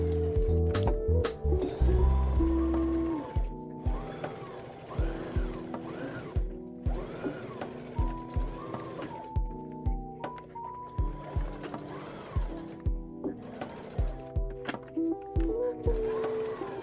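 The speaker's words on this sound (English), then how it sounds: "And then it's time to sew those boning channels." A sewing machine stitches boning channels into a corset, running in short repeated bursts of rapid whirring stitches with brief pauses between, close and steady throughout.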